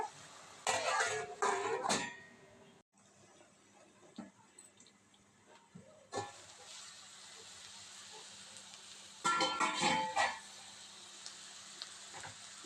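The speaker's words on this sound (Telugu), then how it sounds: "ఉల్లిప ముక్కలు అయితే చక్కగా మగ్గనివ్వాలి" Onion pieces sautéing in a pan for a pesara punukula curry, soft sizzling underneath with loud bursts of scraping and stirring at the start and again near the end, quieter gaps between, and no talk.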